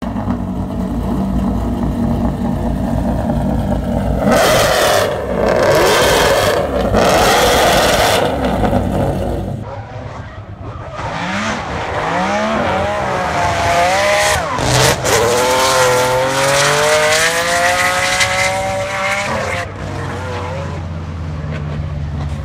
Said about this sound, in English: The brand new car sounds absolutely wild.